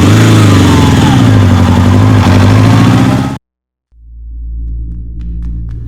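A motorcycle engine idles with a low, steady rumble that starts up after a short silence, following a loud, dense stretch of other sound.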